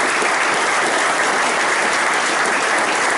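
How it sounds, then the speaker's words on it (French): Loud, dense applause from a rally audience in Cayenne, French Guiana, a steady wash of many hands clapping that fills the whole stretch without pause. "Des gens comme Sarvet, Alfonsi, que je vous demande d'applaudir fortement aussi, s'il vous plaît."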